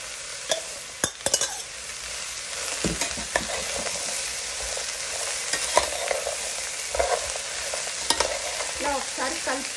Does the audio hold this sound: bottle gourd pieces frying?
yes